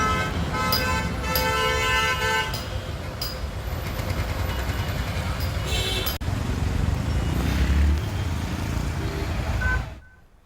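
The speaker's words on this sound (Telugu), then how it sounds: "నల్గొండ జిల్లా చిట్యాల మండలంలో భారీగా ట్రాఫిక్ జామ్ ఏర్పడింది." A highway traffic jam in Chityala mandal, Nalgonda district, packed with vehicles heading home for Sankranti, rumbles on with repeated car and truck horns tooting near and far. Faint voices sit underneath before the sound drops away at the end.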